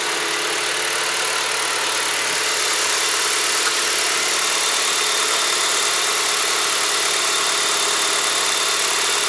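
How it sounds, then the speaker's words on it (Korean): Hyundai LF Sonata with about 92,000 km, idling steadily; a constant, even engine hum and hiss, close and unchanging, with no talk. "이 차는 저 차보다 엔진 소리가 좋습니다."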